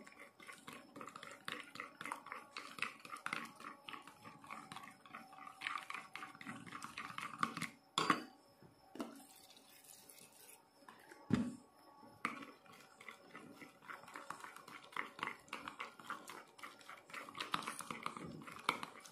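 Slime being worked with activator in a slime kit: wet, sticky squelching and soft clicking pops repeat steadily up close, with a couple of sharper knocks midway and no voices.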